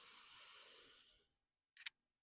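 A deep breath drawn in during a breathing exercise, a long, close airy hiss for just over a second, followed by silence and a short soft breathy puff.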